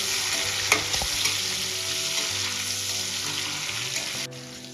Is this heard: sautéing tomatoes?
yes